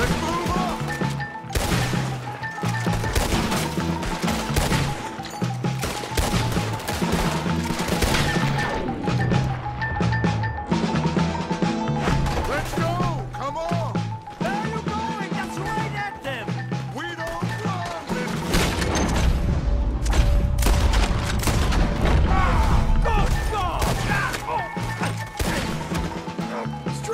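Dense, sustained gunfire and crashing impacts fill a Red Dead Redemption 2 wagon-fight mission, loud and continuous over tonal game music, with voices speaking at times.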